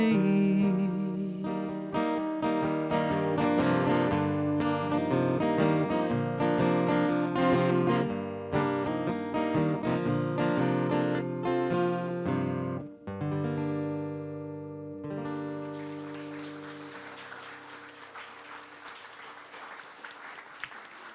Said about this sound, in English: It's also really nice to hear clapping.